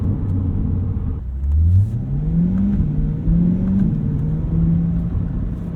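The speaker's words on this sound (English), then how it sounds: "That transmission is lightning fast. Shift, shift, shift." A Chevrolet Corvette C8 engine revs hard, its pitch climbing in steps as quick gear shifts interrupt it, loud and close from inside the cabin.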